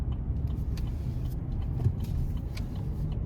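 Interior drone of a 2022 GMC Canyon Elevation extended-cab pickup with a 2.5-litre engine while driving, a steady low rumble of engine and road noise with faint light rattles, no talking.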